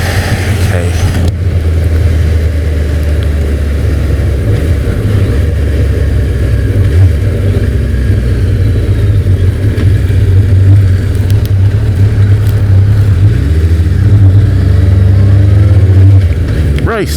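A Suzuki GSX-1300 motorcycle engine drones loudly and continuously while it is ridden on the road, with a deep, steady rumble that rises and falls slightly throughout.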